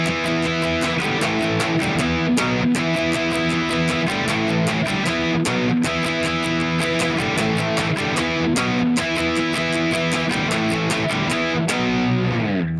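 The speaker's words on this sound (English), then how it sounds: "the rhythm guitar is just playing power chords," A distorted electric rhythm guitar chugs steady, driving power chords with a dense, crunchy tone and regular rhythmic accents, played continuously and loud without voices.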